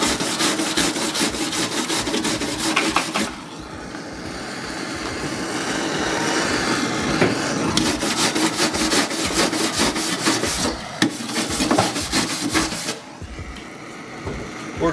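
Cordless wire wheel grinding sound deadening off a car floor during S15 race car rollcage prep, a loud harsh whirring rasp in long bursts that stop and restart, with brief quieter gaps between.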